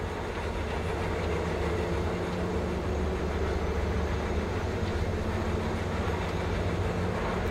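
A train from the video game Cyberpunk 2077 runs at speed, giving a dense, continuous rumble and rattling wheel noise that stays loud and even for the whole stretch, with no voices over it.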